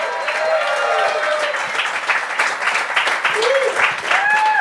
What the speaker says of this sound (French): Un tonnerre d'applaudissements pour Laurie Gilson!